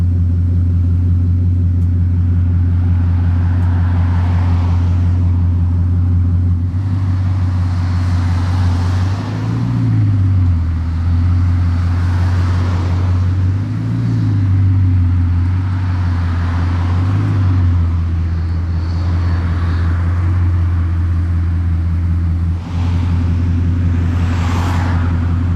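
A Bugatti Chiron Super Sport rumbles with its rear wing raised, a deep steady engine drone that swells in several revving pulses as it moves near a river, loud and continuous with no talk.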